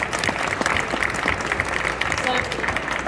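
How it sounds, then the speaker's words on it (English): A trade-show audience at a new-products tasting theatre applauds the presenting food companies, a steady dense wash of clapping that stays loud and even throughout, with some talk underneath. "can we just give all the companies a massive round of applause?"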